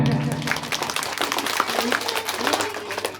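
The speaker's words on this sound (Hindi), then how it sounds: "जोरदार ताली बजाएं।" An audience at a foundation day stage program applauds, a dense, steady burst of many hands clapping at moderate distance, with some voices mixed in.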